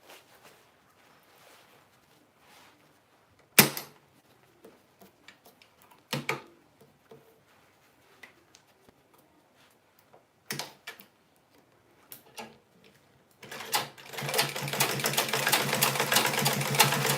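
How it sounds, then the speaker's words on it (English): After sparse clicks and a few louder bumps of handling fabric, a sewing machine starts up near the end and runs in a fast, steady whirring stitch. "I'm going to sew. I'm going to sew it down."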